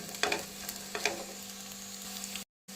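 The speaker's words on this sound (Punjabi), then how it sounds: "ਲਸਣ ਵੀ ਸਾਡਾ ਬਰਾਮ ਹੋ ਗਿਆ ਬਸ 1 ਮਿੰਟ ਇਹਨੂੰ ਆਪਾਂ ਹੋਰ ਪਕਾ ਲੈਂਦੇ ਆ" Garlic frying in a pan for a vegetable dish, giving a steady close sizzle with a few brief stirring scrapes, then cutting off abruptly near the end.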